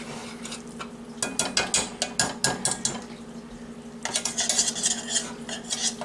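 Oil being stirred into self-rising yellow cornmeal in a fry pan for corn bread, with quiet scraping, clinking spoon strokes against the pan in rapid bursts over a soft background hum.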